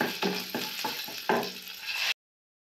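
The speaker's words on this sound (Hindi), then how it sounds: "टमाटर की अच्छे से भुनाई करनी है" Tomato puree with ginger and green chili frying in a pan for a dry potato dish, a steady close sizzle broken by several spoon-stirring strokes, with no voices.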